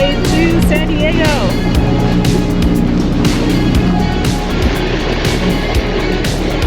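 A small outboard-powered dinghy motoring across the water toward San Diego, its steady engine drone and wash running throughout, with people talking over the noise.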